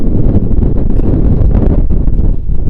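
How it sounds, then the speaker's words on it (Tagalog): Strong wind buffets the microphone on a windy day at sea, a loud, continuous rumbling roar with gusty fluctuations and no voices. "isang magandang mahangin na araw po sa atin lahat"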